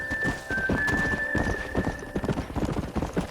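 Rapid hoofbeats of a galloping horse in the Western video game Red Dead Redemption, steady and close, with a sustained tone running over the first part.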